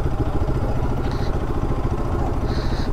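A motorcycle engine runs steadily at a roadside servicing stop, a continuous low mechanical rumble with faint metallic clatter and brief higher hiss bursts, loud and close throughout.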